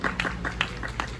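An audience at a concert in Sultangazi applauds. The clapping is moderate and scattered, with quick uneven claps close by and a low background hum beneath them.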